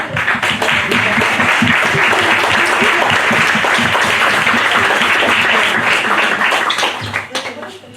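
A youth political gathering's audience breaks into loud, close applause, a thick sustained burst of many hands clapping with some voices mixed in, fading out near the end.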